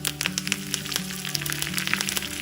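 Curry leaves crackle and sizzle in hot tempering oil with mustard seeds, cumin, crushed onion and garlic for an Udupi-style coconut chutney, a close, steady frying hiss scattered with sharp pops throughout.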